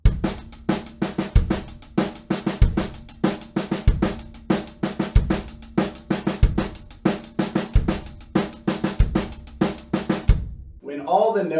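Drum set paradiddle groove with every stroke at the same volume and stick height, a steady repeating pattern with regular low kick hits under dense even hits, played alone and close, ending in a brief pause.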